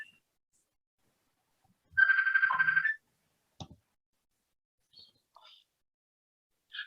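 Phone ringing once in a short electronic warbling burst of about a second, then quiet apart from a few faint clicks and small noises.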